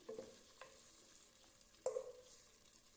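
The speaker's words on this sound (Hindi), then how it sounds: "अब हम थोड़ा प्याज को फ्राई कर रहे हैं" Onions fry in a little oil with a soft, quiet sizzle, punctuated by a couple of scraping clinks from a spoon stirring the pan.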